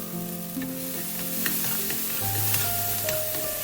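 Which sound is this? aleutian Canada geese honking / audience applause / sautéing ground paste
sautéing ground paste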